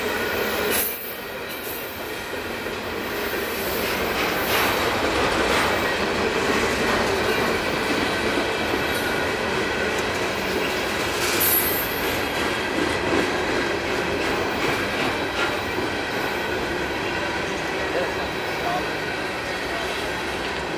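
CSX freight train Q300-02 rolls past in a long, steady roar of wheels and rumbling cars with rhythmic clicking over rail joints and occasional squeals, loud and continuous throughout.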